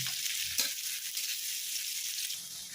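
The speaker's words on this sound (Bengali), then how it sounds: "পেঁয়াজটা ভালো করে ভেজে নেব যতক্ষণ না হালকা ব্রাউন কালারের হয়ে যাচ্ছে।" Chopped onion fries in hot oil for a Bengali fish-roe curry, giving a loud, continuous bright sizzle with a brief stirring scrape near the start and no voices.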